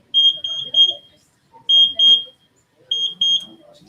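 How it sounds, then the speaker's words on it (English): An ultrasonic obstacle-sensing device from a student STEM project gives three quick rounds of sharp, high-pitched triple beeps, loud and close, with a voice talking in the gaps. "it beeps 3 times if an object is on the left of you or a person"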